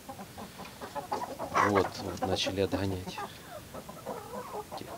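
Chickens, including older roosters, cluck nearby in short bursts while someone talks over them, with a busy farmyard clatter throughout.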